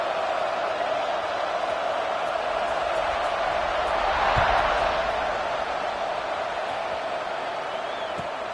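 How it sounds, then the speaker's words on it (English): Steady crowd buzz fills a football stadium in the video game College Football 26, a broad continuous murmur holding at even loudness with a faint swell near the middle. "this crowd is buzzing after that last score"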